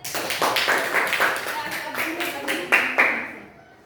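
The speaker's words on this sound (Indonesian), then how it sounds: "Kita beri aplaus untuk kelompok mahir." A classroom group gets a short burst of hand clapping from the audience, a steady run of claps that tapers off over a few seconds with a voice speaking over part of it.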